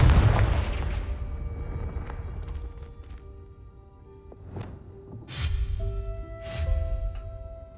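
The Confringo blasting spell from Hogwarts Legacy going off: a heavy boom that fades into a low rumble, followed by two further whooshing bursts against a tonal game background.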